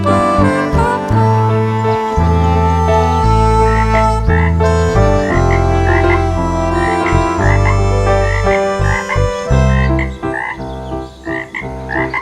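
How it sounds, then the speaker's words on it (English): Frog croaking in a 3D animated bedtime story, set against a steady, loud musical backing of sustained chords and notes for the whole stretch. "Then the elephant met a frog."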